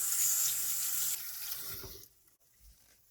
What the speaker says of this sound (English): I'm also going to wash my fingers because it has the cleaner on it as well